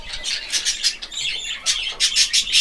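A budgerigar chick calls close by in rapid, raspy, high-pitched squawks and chirps, repeated in quick irregular bursts with no talking.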